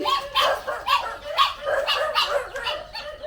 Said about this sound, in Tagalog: Pasensya na po kayo at napakaingay ng mga aso.